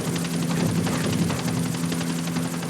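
A helicopter in Grand Theft Auto IV: The Ballad of Gay Tony gives a continuous rotor chop and engine drone, steady and full, holding at the same level throughout without speech.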